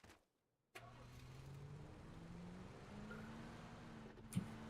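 A car engine in the video game PUBG starts abruptly after a brief silence and settles into a steady mid-pitched running hum that rises slightly as it revs, close and fairly quiet.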